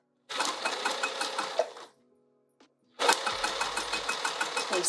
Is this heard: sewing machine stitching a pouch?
yes